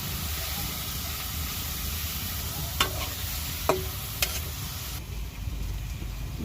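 Leafy greens frying in a pan with garlic, onion and green chillies, a steady close sizzle and hiss broken by a few sharp clinks and scrapes of the stirring spoon.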